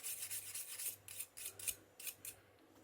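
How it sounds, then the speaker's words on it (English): Quiet, rhythmic scrubbing strokes of a cleaning tool rubbing oxide from the copper contacts of a Nintendo 64 cartridge, repeating in short bursts with brief pauses. "scrub some of that oxide off just a little bit"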